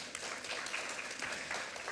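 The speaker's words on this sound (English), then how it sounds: "Can we give them a round of applause?" Brief, soft applause from an audience at a volunteer programme graduation, a light scattered patter of clapping heard at a distance.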